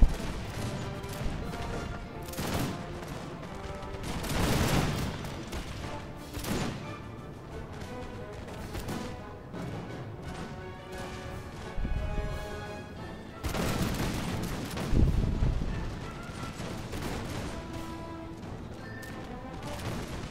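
Infantry volley gunfire in a strategy video game as foot units battle over a hill. Irregular bursts of musket-like shots and cracks come one after another, mid-distance, over a continuous battlefield din, with no talking over them.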